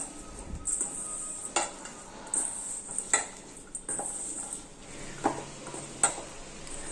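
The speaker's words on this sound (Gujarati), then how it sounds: "હવે આ બધી વસ્તુ છે તેને આપણે પ્રોપર રીતે મિક્સ કરી લેવાનું છે" Potato petis stuffing being mixed in a bowl, with intermittent scrapes and clinks of a spoon against the dish over a faint background hiss, quiet and close, no speech.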